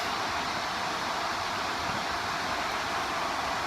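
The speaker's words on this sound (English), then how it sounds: "A waterfall in the background and" Waterfall at a trail junction on the Fiery Gizzard Trail, a steady, full roar of falling water that holds constant and fairly loud throughout, with no voices.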